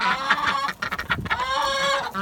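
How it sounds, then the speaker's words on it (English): Backyard chickens clucking outdoors on a cold day, a close, busy run of short overlapping clucks and squawks with brief pauses, fairly quiet overall. "These chickens are out today."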